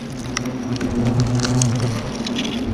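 An Asian hornet buzzes close on a GoPro camera near its nest, a steady droning hum with brief louder wingbeat flurries and light tapping, no voices.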